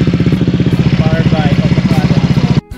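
A motorcycle engine with an aftermarket exhaust pipe idles with a deep, rapid, throaty pulsing, close up, cutting off abruptly near the end.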